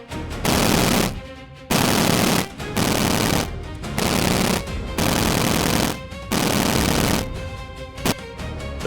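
Loud machine-gun fire in a jungle ambush, long rattling bursts of automatic shots broken by short pauses, repeating about six times, close and dominant with no talking.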